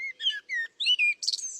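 A blackbird sings in a UK park in early spring, giving short, clear fluty phrases with brief pauses between them, close and alone with no voices.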